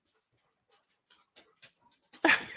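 A small dog whimpers and pants faintly in short scattered bursts, ending in a louder yip close by.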